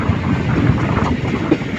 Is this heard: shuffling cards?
no